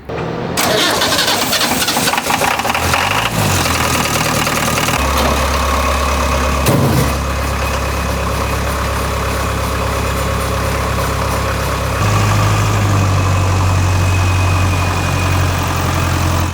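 A 48-horsepower diesel engine in a Land Rover Defender-style vehicle cranks and catches, then settles into a steady, close idle with a deep low rumble that shifts pitch slightly partway through.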